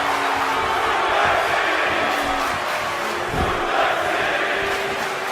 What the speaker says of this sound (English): You hear the crowd, man. They're behind Brock Lesnar here.